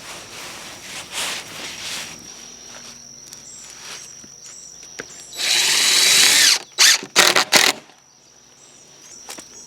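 A power drill drives regular deck screws with fender washers, a long loud whir followed by several short bursts of the motor, with quiet outdoor background and no talk.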